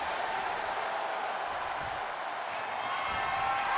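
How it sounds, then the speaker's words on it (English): A packed wrestling arena crowd roars and applauds in a steady, dense wash of cheering and clapping, heard from a distance without a break. "these fans have packed the arena and we're hearing every single voice. It is loud and it is mad in here"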